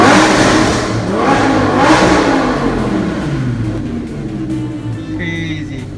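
Lamborghini fitted with a gold Fi exhaust, valves open, revs up and settles in a rough, loud burbling rumble throughout, with a brief high whine near the end.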